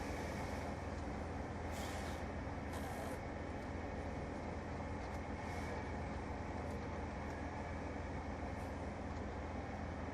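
A bus in Black Ops 2 rumbles to a halt with a steady loud engine drone and short airy hisses from its air brakes, a few bursts spread across the stretch.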